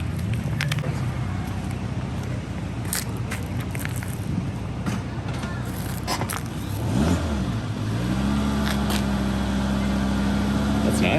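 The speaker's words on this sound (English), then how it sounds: "Let's see if we can catch the exhaust note." Exhaust rumble from a driving Volvo, building with a low droning tone as it accelerates toward the end, steady road noise throughout.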